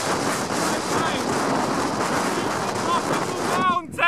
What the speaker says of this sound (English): as you've probably guessed, it's pretty windy.